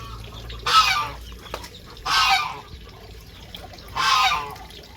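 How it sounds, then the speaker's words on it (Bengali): Ducks and chickens call out in three separate bursts of loud honking squawks, evenly spaced, over a quiet outdoor background. "আজকে ছেড়ে দিয়েছি হাঁস মুরগিগুলো"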